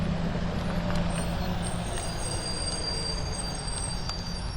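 A 12-car Long Island Rail Road M3 electric commuter set rolls past at a distance, giving a steady, fairly faint rumble with thin high wheel squeals drifting over it.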